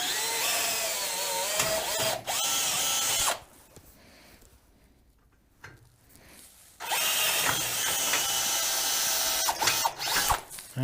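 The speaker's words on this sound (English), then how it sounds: "go ahead and drill out the rivets for the original mount" A power drill with a 3/16 bit whines loudly in two long bursts drilling out engine mount rivets on a John Deere 200 Series, broken by a quieter gap of low handling noise, with brief sharp clicks near the end.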